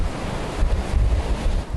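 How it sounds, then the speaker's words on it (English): Hurricane-driven surf pounds the Tulum coast as strong gusts of up to 160 km/h roar across the microphone, a loud, continuous churning wash with no voices. "Wind gusts up to 160 kilometers per hour brought surging waves to Tulum."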